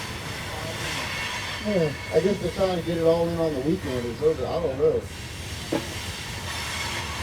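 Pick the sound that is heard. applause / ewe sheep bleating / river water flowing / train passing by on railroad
train passing by on railroad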